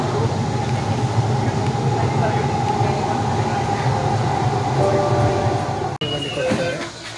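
A Bangalore Namma Metro train rumbles along steadily with a low roar and rattling, heard from inside, then a brief drop and a shift in the noise near the end.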